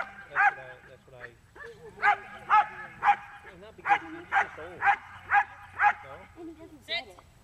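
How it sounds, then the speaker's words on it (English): A dog barks repeatedly during Schutzhund training, about ten sharp, close barks in a fairly regular rhythm with a few whimpering yips between them, while a person speaks nearby. "Can you control that dog?"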